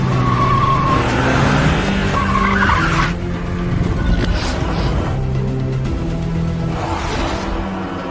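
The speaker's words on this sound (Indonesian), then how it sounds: "Dan dengan merampas sebuah mobil, Sejong menginjak pedal gas dalam-dalam, berniat untuk menabrak mati sang ilmuwan gila tersebut." A car skids as the gas pedal is floored, with loud sustained tire squeal and engine roar up close, the screeching rising and falling in waves throughout.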